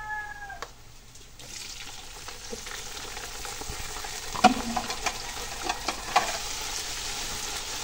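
Tomato, onion and garlic sauté for menudo in a pan: a quiet, steady sizzle with occasional stirring clinks and scrapes, growing slightly busier midway, with no one talking.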